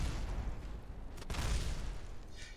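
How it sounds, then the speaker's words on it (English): Simulated gunfire and explosive booms from a Kerbal Space Program battle using the BD Armory mod, a dense, continuous rumble of shots and blasts with a sharper burst partway through and a brief whine near the end. "Gunfire came in."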